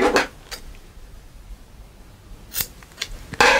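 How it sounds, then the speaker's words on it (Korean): Scissors snip through a knotted bundle of latex balloon in a few quick, close cuts, with a sharp snip near the start, two more close together later, and a last louder cut at the end, separated by quiet pauses. "보시는 것처럼 가위로 잘라 주시면 됩니다."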